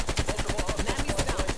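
Rapid automatic AK-47 fire in the video game Call of Duty Cold War, a dense, steady stream of loud shots hammering in quick rhythm without a break through the whole stretch.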